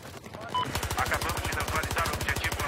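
Rapid automatic gunfire from an MPX submachine gun in a shooter video game, a dense loud burst of shots in quick steady rhythm after a brief quieter lead-in.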